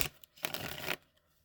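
Brief, soft riffling of an Everyday Witch tarot card deck being shuffled: one short burst of card flutter with a few faint taps before and after, close and quiet.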